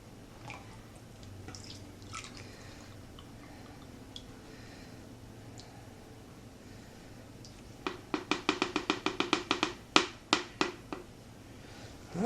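Lye water with silk added drips through a strainer during soap making, starting as sparse faint drops and turning into a quick run of sharp, close drips near the end.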